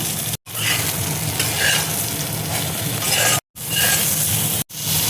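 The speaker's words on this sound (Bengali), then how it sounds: "এবার দেখো বেগুনটা আমি দিয়ে দিচ্ছি।" Eggplant pieces fry in oil in a wok with salt added, giving a continuous loud sizzle with stirring scrapes, broken by a few abrupt cuts.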